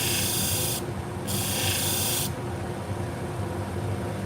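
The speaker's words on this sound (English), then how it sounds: "I'm cleaning them with rubbing alcohol." Cloth rubbing Olsen-Hegar needle holders with rubbing alcohol, a steady loud scrubbing hiss with two brighter bursts of wiping early on, alone without talk.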